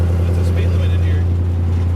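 A 1960 Chevrolet Biscayne with a 5.3 liter V8 drones loudly and steadily from inside the cabin, a deep constant rumble with a voice speaking over it.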